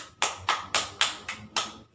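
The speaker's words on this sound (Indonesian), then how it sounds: "beri tepuk tangan buat kelompok 1 yang telah mempresentasikan hasil diskusinya dengan baik" About six sharp hand claps at an even pace, close and fairly loud, from a small classroom group applauding the first group after its discussion presentation.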